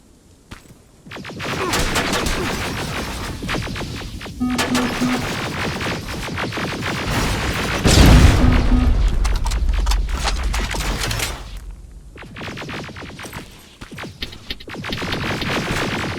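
Rapid automatic gunfire rattles almost nonstop in the Terminator Resistance shooter, a dense fusillade of close shots with overlapping bursts, a heavy low thump near the middle, then a brief lull before the firing picks up again.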